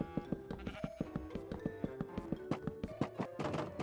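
Sheep in the Minecraft video game bleat in repeated short, stepped calls overlapping a quick run of clicky clip-clop beats, quiet and evenly paced, with no talking.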